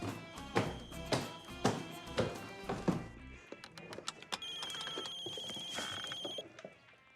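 A telephone rings with a sustained electronic tone in the second half, after a series of heavy thumps and knocks, moderately loud in an indoor scene.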